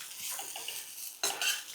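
Okra masala fry being mixed with chopped coriander in a pan, heard as soft scraping and clinks of a spoon against the metal, with a sharper stir and clatter near the end.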